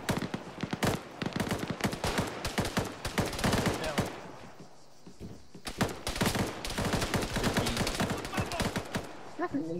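Dense, loud automatic gunfire rattles through an ARMA 3 firefight in rapid bursts, pausing briefly midway before resuming with more sustained volleys and a few distant cracks.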